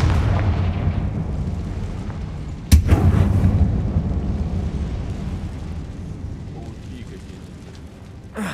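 A Confringo fire spell blast in the Hogwarts Legacy video game, set inside a closed mine. A single sharp, loud burst lands partway through, then a rumbling tail fades into steady low in-game ambience.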